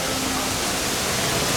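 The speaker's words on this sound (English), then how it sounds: "there's a waterfall over here" A waterfall at the Toverland theme park gives a steady, loud broadband rush of falling water that fills the whole moment evenly, with no voices.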